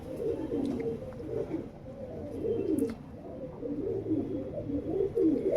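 Tournament racing pigeons brought from Punjab coo continuously inside a loft, many low throaty calls overlapping near and steady with no talk.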